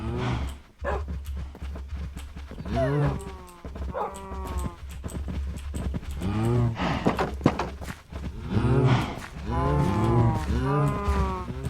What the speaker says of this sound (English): You already got so many cows in here.